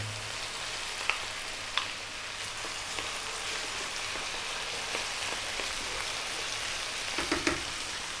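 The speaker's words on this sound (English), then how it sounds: "We're now going to drop in the onion." Onion frying in a pan over fairly high heat for aloo keema with par-cooked potatoes, giving a constant, dense hiss with a few faint clicks of the utensil, heard alone and close.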